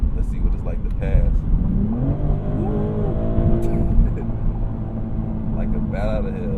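A 2024 Maserati GranTurismo Modena accelerates hard to pass on the highway, its engine note rising loudly in pitch and stepping through quick gear changes, heard from inside the car.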